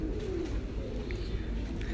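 Pigeons coo at a house in Bhuchal Kalan, a low steady murmur of calls held under a constant hum of background noise, with faint voices nearby.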